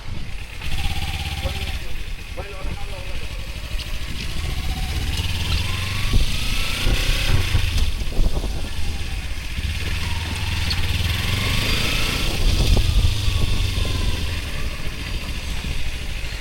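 A Kawasaki Ninja 300 motorcycle idles with a steady, low engine drone throughout, occasionally rising slightly. People talk nearby over the running engine.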